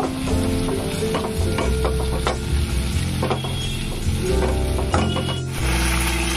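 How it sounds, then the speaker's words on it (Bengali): Sesame, mustard, poppy seed and green chili paste being stirred in a hot pan, with a constant sizzle and repeated scraping strokes of a spoon against the metal, loud and close. "দেখুন তিল বাটাটা দিয়ে আমি এটাকে 1 মিনিট মতো নাড়িয়ে নিচ্ছি।"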